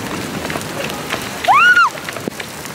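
Hail falls outdoors in spring as a dense, steady patter of small hits on surfaces around the recorder, with a brief high rising-and-falling vocal cry cutting through midway.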